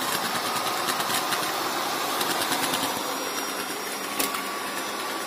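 A Hobot Legee 688 robot floor cleaner runs nearby with a steady whirring motor and suction hiss that shifts slightly in intensity, heard on its own.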